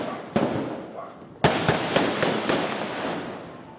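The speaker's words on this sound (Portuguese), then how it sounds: "O tiroteio aconteceu na hora em que muita gente saía para trabalhar." Rifle bursts in a police shootout at the Complexo do Alemão in Rio, heard as several sharp cracks, one isolated and then a rapid cluster, loud and echoing over a noisy street background.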